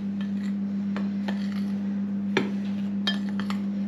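Flour and black onion seeds stirred around a bowl for a curry, with light clinks and scrapes of a utensil against the bowl at irregular intervals over a steady background hum.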